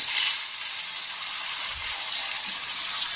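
Pabda fish fry in hot oil with a steady, bright hissing sizzle, close and even in loudness from start to finish, with no voices.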